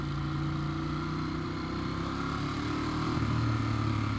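A 2014 Ducati Monster 821 rolls slowly through town in first gear, its engine a low, steady thrum with a faint pitch rise near the end, running alone and moderately close with wind noise.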